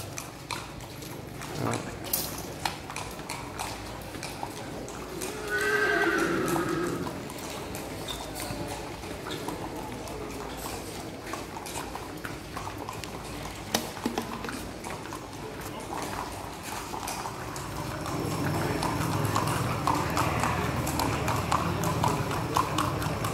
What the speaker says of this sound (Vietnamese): nài ngựa đang dắt ngựa ra chuồng đua đấy các bạn nhé